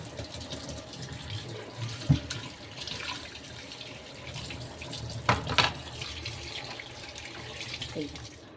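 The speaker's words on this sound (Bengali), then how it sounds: "চিংড়ি মাছটা বের করে নিই। জলে ভিজিয়ে রাখবো।" Tap water runs steadily into a sink to soak shrimp, a continuous near wash with a few brief clinks and splashes along the way.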